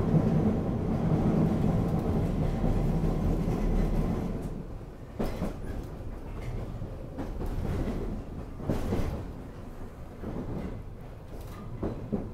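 London Underground S stock train running along a line in Kensington at night, a steady loud rumble with rail clatter that eases after a few seconds and continues more softly, no talk.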